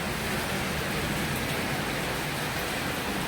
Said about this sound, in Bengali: এখন এক চোট বৃষ্টি হইল।